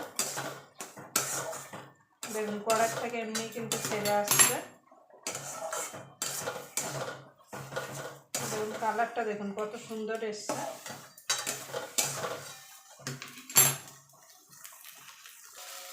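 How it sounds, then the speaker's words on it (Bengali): Cabbage bharta with a splash of raw mustard oil is stirred in a kadai, with intermittent scraping and clattering of a utensil against the pan while someone talks over it. "এবার ভালো করে মিশিয়ে নেব।"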